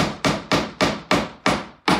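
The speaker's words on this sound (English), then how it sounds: "and then I will just tap it with a hammer" Hammer strikes tapping a glued wooden dowel into a furniture handle hole, seven sharp, evenly spaced knocks about a quarter second apart, close and loud, each with a short decaying ring.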